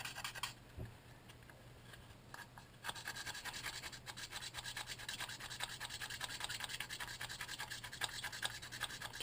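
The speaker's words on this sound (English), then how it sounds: "Just rub it against one side like a file" Close, quiet rasping strokes repeat in a fast back-and-forth rhythm as a drill bit is rubbed like a file against a hard edge, after a brief soft start.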